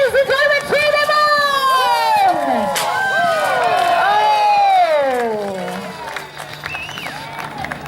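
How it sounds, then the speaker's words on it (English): Crowd at a jousting tournament cheering loudly, many overlapping shouts and whoops rising together, then fading to scattered voices. "Ladies and gentlemen, cheer them on!"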